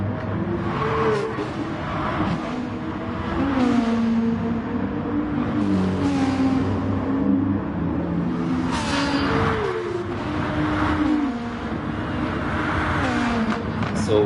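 A VW Beetle race car in Gran Turismo Sport roars loudly and continuously, engine pitch climbing and falling through gear changes as it is pushed hard around the track, with no speech.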